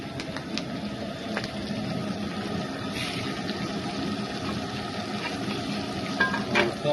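Fresh green curry leaves sizzle and crackle in hot coconut oil in a pan while masala fish is being made, a close, steady frying hiss with small pops. No voices are heard.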